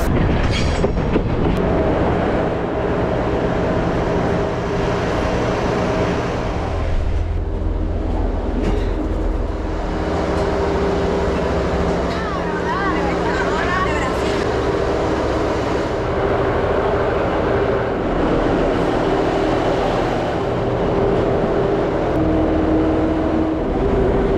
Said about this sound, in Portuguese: O trem é muito bacana, muito confortável.